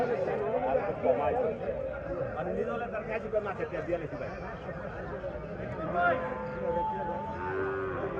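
Cattle moo amid a busy crowd of chattering voices at a livestock market in Munshiganj, Bangladesh; the lowing blends continuously with nearby talk and bargaining.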